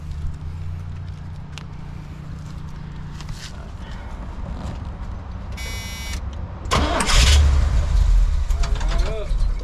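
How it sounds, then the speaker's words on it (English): A classic Corvette engine cranks and then catches after a jump start, settling into a rough idle, with people talking nearby over steady mechanical rumble. "let's see if we can get this one jumped off here"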